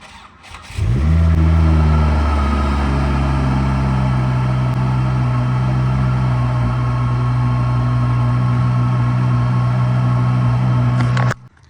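A 2005 Volvo S40 T5 engine cranks and catches after repeated failed attempts, then idles loud and steady with a constant droning hum for about ten seconds before cutting off abruptly, close up with no talking.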